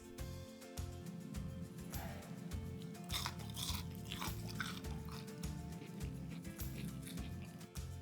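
Crunchy fried cheesy chilli nuggets being bitten and chewed up close, a continuous run of crisp crunching bites.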